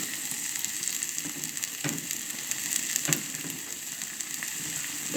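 Chopped tomatoes fry in a hot pan for a potato dish, making a continuous soft sizzle with brief crackling pops throughout.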